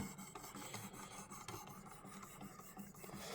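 A Puma leather-cutting backstrap knife clamped in a vise is sharpened with steady back-and-forth rasping strokes, a faint, continuous filing sound with an even rhythm.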